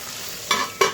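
Spice paste for a magur catfish curry sautéing in a pan: a steady soft sizzle, broken by two quick scraping stirs close up, with no voices.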